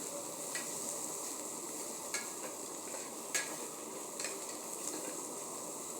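Chopped green chili sizzles and fries steadily in hot oil in a pan for chicken biryani, with a constant crackling hiss broken by occasional light scrapes and taps of a stirring spoon.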